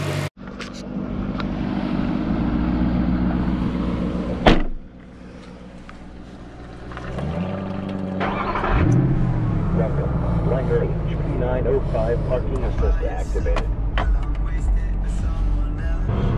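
A Mercedes-AMG SLS Black Series engine idles with a deep rumble, then pulls away, its low exhaust note rising and falling through gear changes under steady talk from inside the car.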